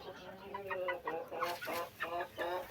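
Chickens and chicks clucking in a coop at feeding time, a run of close rhythmic clucks in steady bursts at moderate volume.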